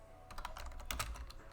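Brief burst of typing on a computer keyboard while entering a terminal install command: quiet, rapid clicking keystrokes in an irregular rhythm with a short pause in the middle.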